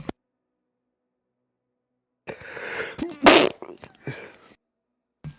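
A single sharp sneeze bursts out amid muffled shuffling and breathy noise, with a short voice sound before it and another brief sound after it.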